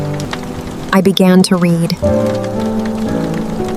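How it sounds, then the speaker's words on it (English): Steady rain falls outside a warm flat on a wet day at home, a soft continuous patter running beneath a calm speaking voice. "And outside, the rain was still falling."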